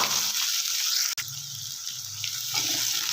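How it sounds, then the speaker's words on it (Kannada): Chopped onion goes into hot oil already holding mustard seeds, cumin and curry leaves, and a loud, steady sizzle hisses close by, briefly cut off by a short break near the start. "ಇವಾಗ ಕಟ್ ಮಾಡಿಕೊಂಡಿರೋ ಈರುಳ್ಳಿ ಹಾಕ್ಕೊಳ್ಳೋಣ."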